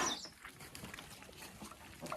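Month-old Vietnamese pot-bellied pigs give faint, scattered grunts and snuffles up close, mixed with light shuffling and patter.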